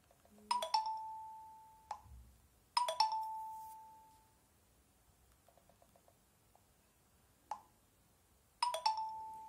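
WhatsApp message notification chimes on a phone while WhatsApp Web is in use, several crisp two-tone dings spaced seconds apart with faint taps and clicks between, clear and close in a quiet room.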